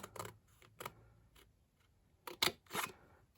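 Long scissors snipping through card during papercraft, a few sharp separate cuts with short pauses between them, close and fairly quiet with no talking.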